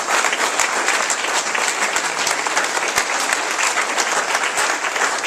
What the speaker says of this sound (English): We would like to recognize her and give her a round of applause